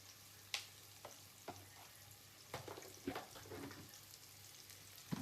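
Seafood sizzling in hot oil in a pan with a few loud stirring clacks, crackling softly throughout at close range, with no talk.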